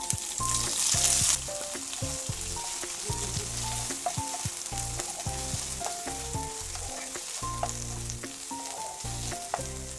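Sliced potatoes and vegetables sizzle steadily in a hot pan of oil with curry leaves and green chilli, with repeated stirring scrapes and clinks close by and no talk.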